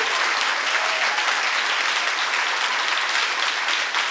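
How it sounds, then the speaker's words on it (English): An audience applauds an attorney general at a speaking event, a steady, full wash of clapping that holds evenly at moderate loudness for the whole stretch, with no voices on top. "could we have a round of applause for Bob Ferguson, the Attorney General of the state of Washington?"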